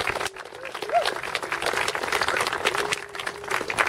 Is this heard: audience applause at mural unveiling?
yes